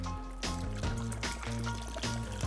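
Hot water pours steadily into a saucepan to make a bain-marie for hollandaise sauce, a continuous close liquid stream with bursts of filling.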